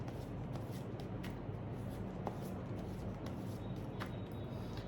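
Tarot cards being shuffled by hand, a soft papery rustle with faint intermittent flicks, quiet and close under a steady background hiss.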